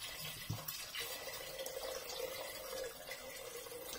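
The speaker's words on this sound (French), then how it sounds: "1 litre d'eau et j'arrose tout" About a litre of hot water poured over lentils in a pot for chorba lentil soup, a soft continuous splashing pour that stays fairly quiet, preceded by a brief clunk.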